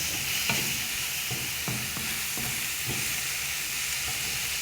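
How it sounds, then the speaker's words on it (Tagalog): Tomatoes sauté in a pan for a Filipino chicken dish, giving a steady sizzle broken by repeated light knocks and scrapes of a stirring utensil. "Lalando-landoin muna po natin ang kamatis. Lutuin natin mabuti bago natin ilagay yung manok."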